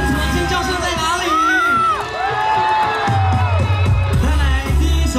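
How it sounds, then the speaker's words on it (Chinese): An audience at an outdoor Taiwanese-language classic song concert screams, whoops and cheers loudly, with rising and falling shrieks over a continuous crowd roar and some music underneath. "全场尖叫声在哪里？"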